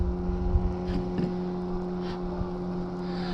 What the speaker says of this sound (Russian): Вон лодка херачит.